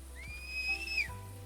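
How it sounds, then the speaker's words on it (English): A short rising whistle rings out in a pheasant hunting video game, a single clear tone held for under a second before sliding down, faint against a quiet low background hum. "We're gonna hit the key that I have bound for whistling."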